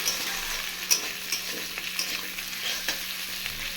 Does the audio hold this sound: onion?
yes